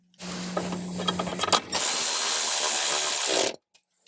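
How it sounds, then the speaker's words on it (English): A power tool drives an 8mm bolt into the side panel of a 2018-up Jeep Wrangler JL during a front speaker upgrade, running in a short burst, pausing briefly, then whirring steadily for about two seconds before stopping. "All right, so we've got an 8mm bolt to put in on the side."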